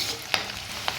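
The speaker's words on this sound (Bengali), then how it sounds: "পেঁয়াজটা হালকা হালকা ভাজা হয়ে গেছে" Onions frying in a pan, a soft steady sizzle with two brief sharp stirring clinks against the pan, close and fairly quiet, no talking.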